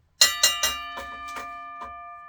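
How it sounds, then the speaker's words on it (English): A bell rings out in repeated loud strikes, three quick ones and then several softer ones, each leaving a long sustained tone that keeps sounding on and on with no voices. "That's why I hate the bell. Look, it's still going."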